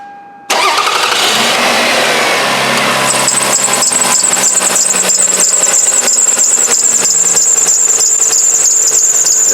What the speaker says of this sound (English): It's actually the compressor itself that's making the noise.